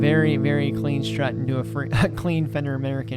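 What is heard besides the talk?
No everyday noises stand out.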